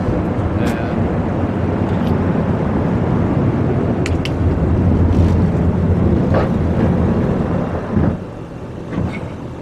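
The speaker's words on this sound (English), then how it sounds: "is the first time I've ever taken off in an A350. And we're off." Airbus A350 taking off from Gatwick, heard from the cockpit: a loud, steady broadband engine and airflow roar that holds for most of the time, then eases slightly near the end.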